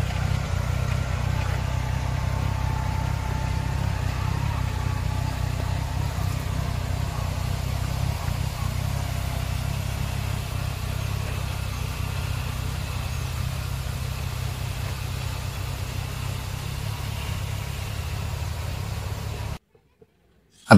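A tractor engine drones steadily and loudly while it cuts furrows in a sugarcane field. The rumble holds constant for about twenty seconds, then cuts off abruptly.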